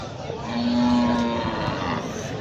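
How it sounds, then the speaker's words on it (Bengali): A single cow moos once nearby at a cattle market, a low sustained call over a murmuring background of market noise. "এখানে দেখতে পাচ্ছি অনেক গরু"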